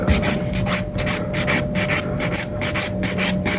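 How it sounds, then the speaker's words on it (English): A 180-grit nail file rasps across fingernails in quick, steady back-and-forth strokes, close up and continuous, with no talking over it. "I just scrub everything and file them in the right shape"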